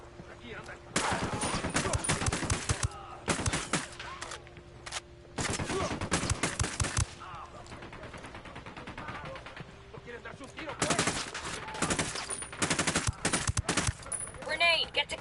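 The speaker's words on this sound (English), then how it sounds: "I'm shooting these fuckers." Bursts of automatic rifle fire from the player shooting at enemies in Ghost Recon Wildlands come in several loud, rapid volleys separated by short quieter gaps.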